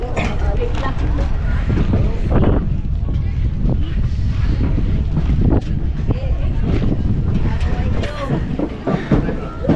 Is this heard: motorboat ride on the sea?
yes